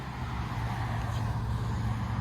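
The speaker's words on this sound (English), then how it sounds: "I gotta remember all these cars passing by." Steady road traffic rumbles nearby, a continuous low engine drone with cars going past and no one talking.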